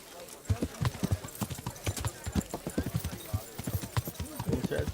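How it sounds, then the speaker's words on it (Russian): Horse hooves clip-clop in a steady, quick rhythm across a road in the medieval video game Kingdom Come: Deliverance, close and continuous, with voices talking over the hoofbeats. "Это конь!"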